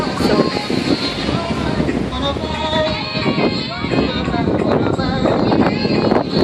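Strong wind on a Jamaican beach buffets the microphone with rough, gusting low rumble, while a person talks throughout over the noise.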